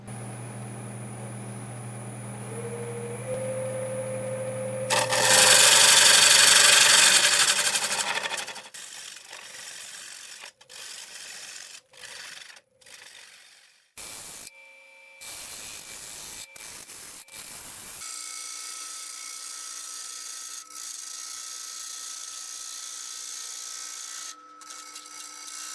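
Wood lathe spinning a glued-up segmented wooden bowl, a steady motor hum rising in pitch as it spins up, then a loud scraping burst of a tool on the wood, followed by intermittent cuts and a sustained running tone.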